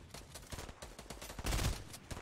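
Rapid bursts of gunfire from golden guns in Fortnite Battle Royale crackle in a dense, continuous volley, with a heavier cluster of shots midway; fairly faint overall.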